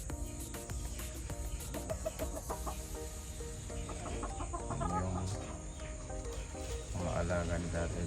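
Kelso gamefowl roosters at a backyard breeding farm give off repeated crows and clucks amid a busy background of other birds and insects, with voices talking now and then.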